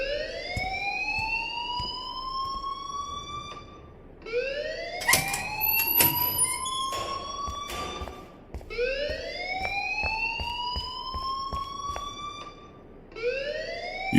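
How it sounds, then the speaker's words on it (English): Alarm in the Life is Strange video game, a rising electronic whoop that repeats about every four seconds, loud and steady, with sharp clanks and thuds breaking in midway. "please turn off that alarm since that's your job"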